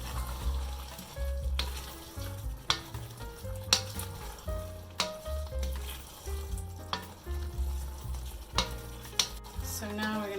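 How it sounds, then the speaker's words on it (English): Food seasoned with black pepper sizzles in a pan while being stirred, a steady frying hiss punctuated by repeated clacks and scrapes of a spoon against the pan, close and fairly loud, with no speech. "So now we're going to stir this a little bit"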